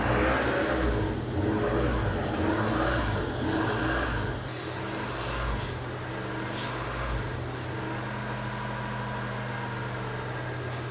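A daily-driver car engine idling steadily during a repair test, a constant low hum with a slight drop in level partway through and a few faint clicks and knocks, no talking.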